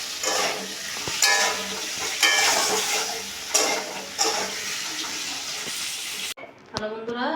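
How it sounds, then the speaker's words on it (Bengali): Potatoes fry in oil in a home kitchen, a steady sizzle broken by repeated stirring scrapes and clatters, then a brief quieter stretch near the end. "তেলে আমি আলুগুলো ভেজে নিব।"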